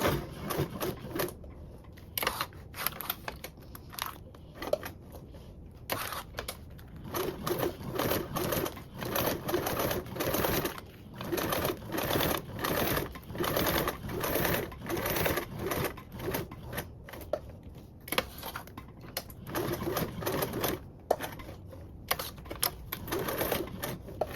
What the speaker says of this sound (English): This will make your top stitching around your zipper.